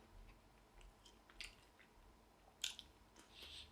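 A McDonald's fried chicken nugget being chewed close up: quiet, soft bites and mastication with a few sharper crunchy snaps, no talking.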